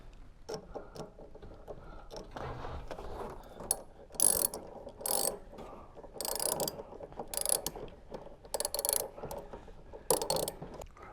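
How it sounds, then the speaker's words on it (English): A ratchet socket wrench clicks in repeated bursts as it tightens a nut, using a 10mm socket, onto a Beko washing machine heating element. The sharp ratcheting strokes are close and fairly quiet, with short pauses between them and no talking. "Screw the nut into position and then tighten it using the 10mm socket set."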